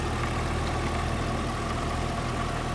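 A 2013 Cadillac CTS-V engine idles steadily with a low, even rumble, no voices, the drone constant from start to finish.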